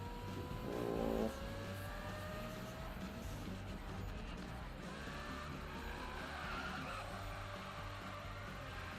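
Tyres skidding as a car drifts through a bend in Need for Speed 2015, a steady engine drone under a rising, sliding squeal with a brief louder burst near the start.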